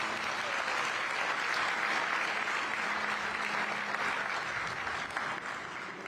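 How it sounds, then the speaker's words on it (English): Audience at the Skyline rail grand opening ceremony in Hawaii applauds in a steady, dense wash of clapping that holds evenly for several seconds before easing slightly at the end. "He deserves an extra round of applause."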